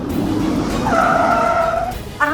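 A car's tires squeal sharply as it brakes to a stop while tailing another vehicle slowly. The squeal rises out of a steady road rumble, is loud and close, and a short chirp follows at the end.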